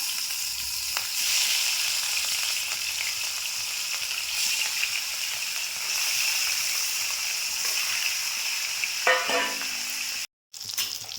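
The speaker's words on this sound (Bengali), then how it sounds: "এই যে মাছ দিলাম খোলায়" Salt- and turmeric-coated fish fries in a pan with a steady, close crackling sizzle that runs throughout, with a brief dropout near the end.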